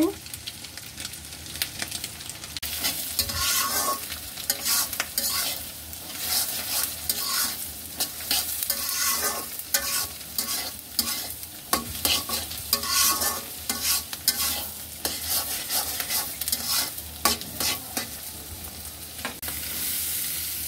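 Vegetables for noodles stir-frying in a pan, with a steady loud sizzle and repeated scraping stirs from a spatula, continuing without a break and with no voices.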